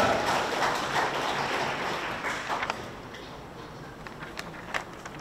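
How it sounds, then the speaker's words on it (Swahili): At a coffee farmers' cooperative gathering in Kagera, Tanzania, an audience claps loudly in a dense, sustained applause that fades gradually over several seconds, with a few scattered late claps. "Naomba tupige makofi ya nguvu sana."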